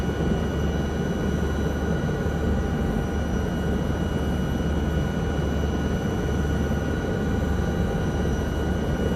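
SA315B Lama helicopter turbine in a flight simulator, a steady broadband engine whine and rumble with faint tonal lines, continuous and even throughout with no voices.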